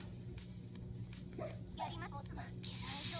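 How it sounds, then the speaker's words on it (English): A dog barks and whimpers a few times in the background, fairly faint, with steady room noise and some talking around it. "Now my dog is barking."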